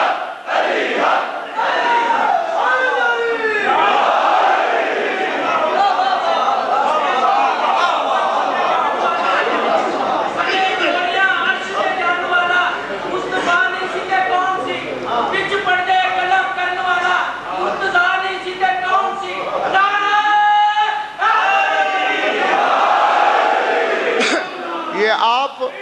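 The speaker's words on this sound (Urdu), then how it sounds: "یہ آپ بڑے جھوم جھوم کے نعرے لگاتے ہیں روز علی حق علی حق علی حق" A gathered congregation chants the religious slogan "Ali Haq" over and over in loud rhythmic unison, a sustained wall of massed voices with shouts and chatter woven through.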